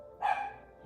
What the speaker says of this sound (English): My dog's a barky.